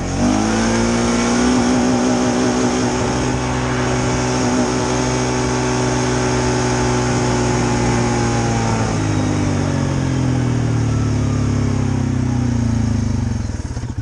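A Polaris Sportsman 570 ATV's single-cylinder engine runs flat out in low range at about 27 mph, holding a loud, steady buzzing drone on the rev limiter for the whole stretch, with the pitch wavering and dipping slightly near the end; no talking.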